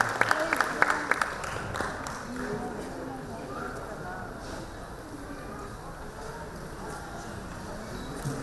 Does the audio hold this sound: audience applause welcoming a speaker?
yes